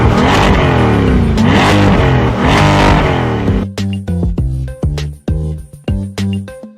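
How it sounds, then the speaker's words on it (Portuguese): A Ferrari engine revs nearby, first a sustained, dense roar and then a run of sharp, separate throttle blips with short pauses between them. "ele fala que vai mostrar para ela o ronco do motor e pede para ela ir lá atrás e escutar o barulho da máquina"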